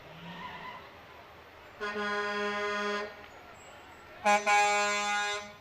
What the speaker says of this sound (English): they're all honking their horns, and those are major horns